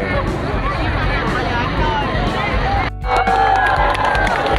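Spectators at the Jogja Night Carnival parade raise a steady cheer and crowd babble, with a commentator talking over the noise, which briefly dips and then rises again.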